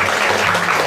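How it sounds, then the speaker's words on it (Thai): A short burst of classroom clapping as pupils applaud a classmate, a dense patter of many small hands sounding close and even throughout. "ปรบมือให้เพื่อนหน่อยค่ะ"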